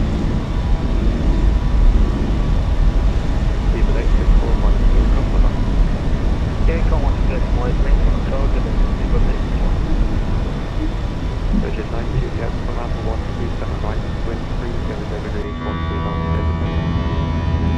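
Airbus A320 jet engines roar steadily at takeoff power in the Fenix flight simulator, a loud continuous rumble that holds throughout and drops away near the end, with a pilot's voice over it.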